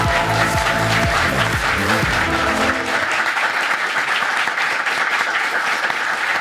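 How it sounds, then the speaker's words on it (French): A studio audience at a charity fundraiser stream breaks into loud, sustained applause, a dense wash of clapping that stays strong from start to finish, with music fading out underneath early on. "Je vous demande un tonnerre d'applaudissements pour Mister MV."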